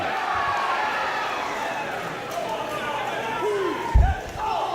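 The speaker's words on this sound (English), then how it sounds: "This crowd is electric tonight" Crowd at a Limitless Wrestling independent show, Ace Romero vs. Anthony Greene, roars and chants continuously, with whoops and shouts rising above the din and a heavy thud near the end.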